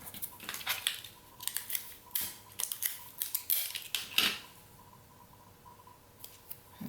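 Scissors snip through a strip of magazine page for fall iris-folding décor, a series of short crisp cuts coming close together and close to the mic, with brief pauses between bursts.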